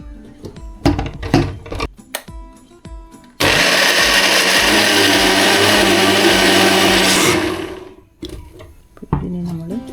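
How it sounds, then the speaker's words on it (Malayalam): An electric mixer grinder blends amla, ginger and kanthari chili with boiled, cooled water, a loud, even whirring roar lasting about four and a half seconds, with scattered knocks and clatter before and after. "നെല്ലിക്ക, ഇഞ്ചി, കാന്താരി 3 ഇട്ട് അരച്ച് അതിൻ്റെ ജ്യൂസ് എടുക്കാൻ പോവുക."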